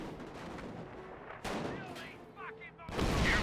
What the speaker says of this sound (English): Suppressive fire there.